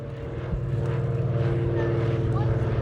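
A Lockheed 12A Electra twin-propeller airplane flies past at the 2024 Sywell Air Show, its engines a steady, loud, droning hum that swells slightly, with a voice talking over it.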